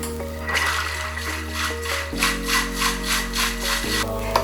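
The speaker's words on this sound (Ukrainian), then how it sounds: "Нам потрібно всього лише 20 секунд, щоб добре взбити." A Thermomix whisks an omelette base at speed 4, the motor humming steadily as a rhythmic swishing pulses about twice a second, close and loud, with a pitch shift midway.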